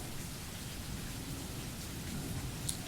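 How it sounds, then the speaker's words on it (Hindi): Storm sound effect of steady heavy rain hissing on surfaces with low rumbling thunder underneath, a dense continuous wash with a brief crackle near the end, no voices. "तब बिजली जैसी बिजली कड़कने लग गया बहुत जोर जोर से। एक आंधी आया, ऐसा साउंड इफेक्ट सुनने लगा"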